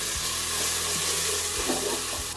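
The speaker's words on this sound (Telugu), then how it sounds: "ఇప్పుడు మిక్స్ చేసుకోవాలి." A spoon stirs tomato masala with turmeric and chili powder in a hot pan for egg biryani, giving a loud, steady sizzle with a few soft scrapes against the pan and no voices.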